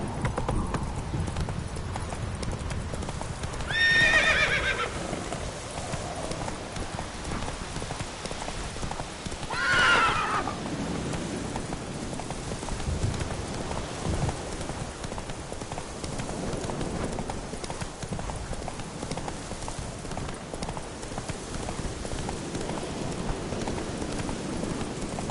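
Roach the horse in The Witcher 3 galloping, a steady rhythmic run of hoofbeats throughout with two loud neighs, with faint speech at moments.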